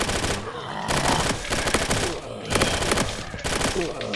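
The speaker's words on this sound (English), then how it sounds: "So I'm going to show you how you can just, shred through all these zombies real fast and reload." Rapid sidearm gunfire in the Reign Fall video game, a dense, loud stream of shots cutting zombies down in bursts with brief gaps for reloads, under faint talk.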